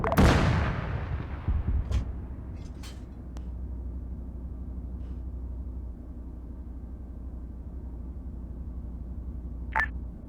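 A tank cannon fires a single heavy shot in a training exercise, a loud booming blast at the start that decays into a long low rumble of engine noise, with a few faint clicks and thuds afterward.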